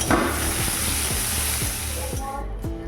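Chopped onions and a bay leaf sizzle in hot oil in a Bengali home kitchen, with a steady close frying hiss and a few soft stirring knocks throughout.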